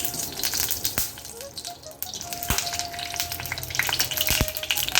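Wheat flour frying in hot ghee in a pan on a gas stove, with a steady close sizzle and crackle, a few sharp clicks and scrapes from stirring, and no voices.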